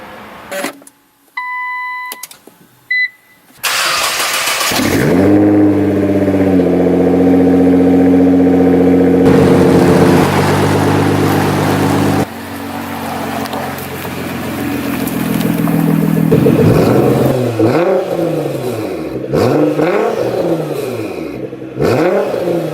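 A Nissan GT-R's twin-turbo 3.8-liter V6 engine starts and settles into a loud idle, then revs hard several times in rising and falling sweeps, close by.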